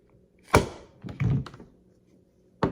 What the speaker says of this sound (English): I'm pressing the mag release. It won't come out.